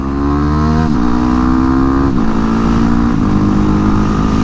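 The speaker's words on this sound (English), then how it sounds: "So brake, bunch of blips." Motorcycle engine under hard braking, loud and close, with a series of quick throttle blips during downshifts: three or four sharp rev spikes separated by steady engine drone.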